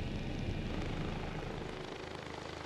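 Rescue helicopter Christoph 26 landing at a landing pad: a steady, loud roar of rotor and turbine noise fills the scene without pause, close and unchanging, with no voices.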